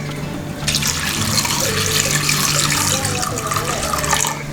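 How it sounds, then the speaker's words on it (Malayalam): Water pours steadily into a pressure cooker holding nutmeg, a continuous close splashing stream that starts abruptly and runs without pause to the end. "ഇതിൽ പാകത്തിനുള്ള വെള്ളം ഒഴിച്ചു കൊടുക്കണം"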